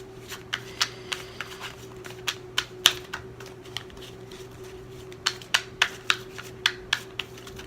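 Tarot cards are shuffled in quick, crisp clusters of sharp riffling snaps, near and fairly quiet, with a short pause midway and a steady low hum underneath.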